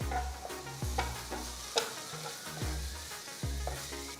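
Rice stir-frying in a hot pan with thinly sliced spring onions and soy sauce, a constant moderate sizzle broken by rhythmic scraping and tossing strokes about every half second to second.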